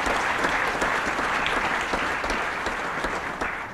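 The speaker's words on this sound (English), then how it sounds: "So let's give him a big round of applause" A room full of people claps steadily and warmly for an honoree at a governor's broadband announcement event, dense even applause that holds level before easing slightly at the end.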